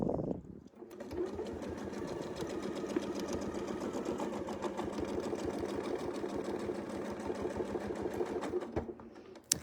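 A sewing machine stitching straight quilting lines runs in a fast, even mechanical chatter for most of the stretch, close and steady, stopping briefly near the start and again at the end.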